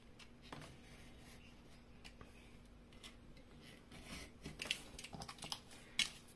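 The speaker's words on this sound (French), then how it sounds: "Et là maintenant on va couper donc pas la partie du milieu, mais tous les rebords pour pouvoir venir coller la boîte." Scissors trimming the edges of a paper box for an Advent calendar, faint close snips and paper rustles that grow busier toward the end, with no talking.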